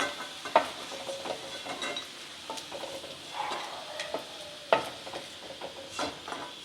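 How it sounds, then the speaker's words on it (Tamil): Dried fish frying in a pan as part of a Burmese-style karuvadu preparation, a steady close sizzle with occasional sharp clinks and scrapes of a utensil against the pan. "இந்த அளவுக்கு கருவாடு வறுபட்டால் போதும்"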